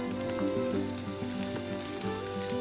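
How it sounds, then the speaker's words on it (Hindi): Garlic and green chilies sauté in hot oil in a pan, giving a steady, loud, close sizzle with bright crackling and a faint tonal hum beneath, no voices. "इसमें मैं लहसुन और हरी मिर्ची डाल दूँगी और इसको बस सौटे करेंगे"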